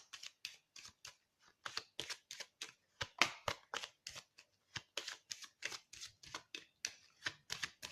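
Oracle cards are shuffled and cut in quick, crisp riffling bursts, a rapid series of papery slaps and flicks close up and fairly quiet, with no talking.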